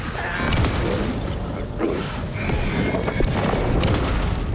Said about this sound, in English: That flashbang didn't do anything